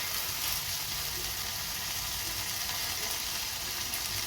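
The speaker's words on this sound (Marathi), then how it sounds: "आता तेलामध्ये आपण दोन्ही करपूस भाजून घ्यायचा आहे" Pavta beans frying steadily in hot oil, a dense continuous sizzle that stays even and close throughout with no voices.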